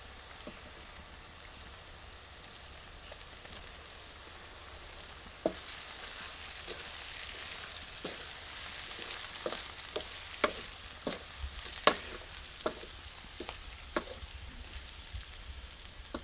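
Potatoes frying in a pan for pulao give a faint, quiet sizzle that brightens midway, with scattered small pops and crackles in the later half.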